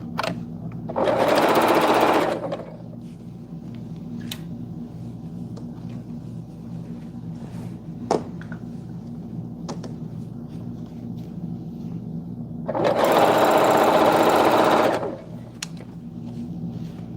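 A sewing machine runs in two steady stitching bursts of about two seconds each, close and loud, separated by a long stretch of low background hum and a few faint clicks.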